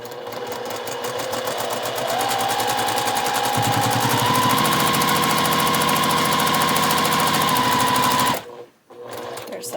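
Sewing machine stitching fabric for a zipper pouch, a steady rapid whirring hum that speeds up in stages, runs for about eight seconds, then stops abruptly.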